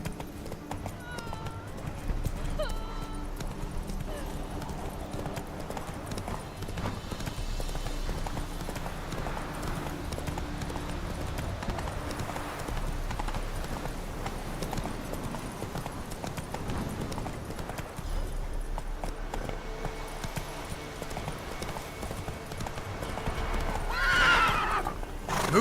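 Roach, a horse in a video game, gallops with a rapid, steady clip-clop of hooves and lets out a shrill neigh near the end, over game sound and a low, faint voice.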